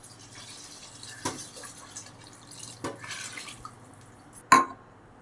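Water poured from a tumbler into a pot of rice for mushroom biryani, heard as a few faint splashes and trickles, with one sharper splash near the end over quiet background hum.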